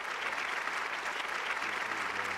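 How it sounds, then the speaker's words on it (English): Brief, even applause from a crowd at a rap battle event, a dense patter of clapping at moderate distance with no pauses. "Round of applause for that."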